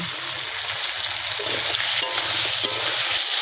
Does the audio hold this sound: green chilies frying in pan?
yes